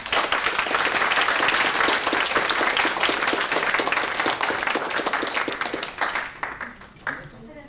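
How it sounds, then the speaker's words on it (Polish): Sustained audience applause at an award ceremony, dense and steady clapping that fills the room before thinning and fading out near the end. "wielkie brawa dla pana i dla całej sieci"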